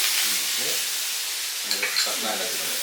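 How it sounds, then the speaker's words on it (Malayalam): Green beans and a whole juicy tomato sizzle steadily in a pan, with soft scraping and clatter from stirring growing busier toward the end; no one speaks. "ഇനി ഇത് നമുക്ക് നന്നായിട്ടൊന്ന് ഇളക്കി കൂട്ടിയെടുക്കുക."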